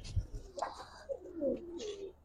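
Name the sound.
Giribaz pigeons cooing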